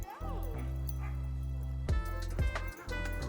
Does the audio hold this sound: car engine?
no